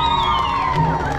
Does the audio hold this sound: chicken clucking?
no